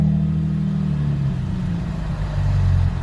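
A brief throttle blip from a Chevrolet Camaro with an idle fault swells into a loud, close, low engine rumble that hangs at raised revs for a few seconds before settling slightly, with no voices over it.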